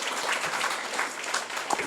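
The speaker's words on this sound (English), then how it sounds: "another round of applause" Audience applause at a forum fills a hall, a brief, even patter of many hands clapping at moderate volume.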